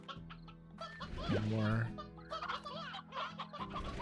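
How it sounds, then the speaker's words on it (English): Briar hens in the game Slime Rancher cluck in quick, close bursts over background music, with a voice speaking briefly. "We can gobble up a couple extra briar hens."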